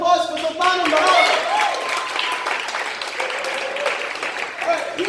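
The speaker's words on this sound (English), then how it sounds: "can we get a round of applause for Sultan and Maran?" Audience applause at a live improv show for two volunteers just brought up, a lively burst of many hands clapping with some crowd voices and whoops mixed in, holding steady before easing slightly.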